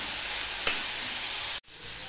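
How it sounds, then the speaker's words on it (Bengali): Bitter gourd frying in oil in a pan, a loud, dense continuous sizzle with a brief pop, cut by a sudden short dip before the hiss resumes. "এখানে উচ্ছেটা আমি আগে দিয়ে একটুখানি ভেজে নেব"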